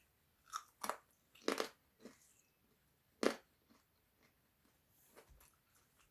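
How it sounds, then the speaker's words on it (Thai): Homemade Thai crispy pork belly crunched close to the mouth, a few loud sharp crunchy bites followed by quieter chewing in an otherwise silent room. "วันนี้จะมากินหมูให้ดูไงว่าหมูมันกรอบกรอบจริง"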